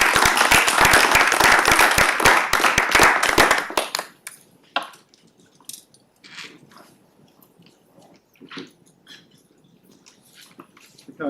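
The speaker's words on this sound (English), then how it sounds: "Can we please give these absent recipients a round of applause?" A council meeting audience applauds in a chamber, dense steady clapping for about four seconds that stops abruptly, leaving scattered knocks and rustles.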